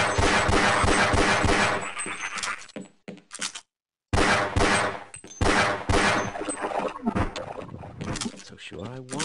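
Gunfire in the video game Half-Life rings out as rapid repeated shots at close range, loud and dense, with a brief silent gap in the middle and game sounds mixed in.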